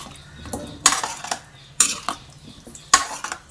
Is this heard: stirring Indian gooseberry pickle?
yes